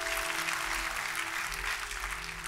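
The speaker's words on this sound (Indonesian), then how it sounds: "Kita kasih tepuk tangannya yang meriah buat Tuhan kita" A church congregation applauds together, a steady wash of hand clapping held at an even level throughout, with a faint low hum beneath it.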